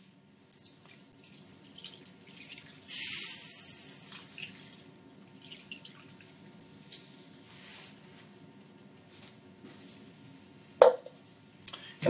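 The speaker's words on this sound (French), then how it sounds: "Là, je peux ajouter le bouillon." Broth poured into a pot of braised venison, a soft splashing pour followed by faint trickles and light drips, close and quiet with no talking.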